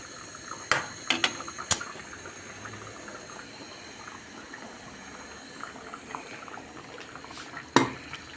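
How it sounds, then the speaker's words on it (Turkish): Couscous being stirred in a pot, soft scraping and liquid bubbling under a few sharp metallic clinks of a spoon against the rim, spaced irregularly and fairly close. "Kuskusumu karıştırıyorum."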